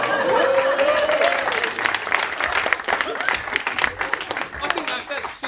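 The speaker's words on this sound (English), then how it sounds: "I think that's sustained applause where I come from." A village hall audience at a comedy show keeps up dense, sustained applause while a voice carries on talking over the clapping.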